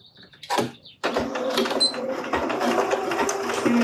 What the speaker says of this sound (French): Je fais mon point avant arrière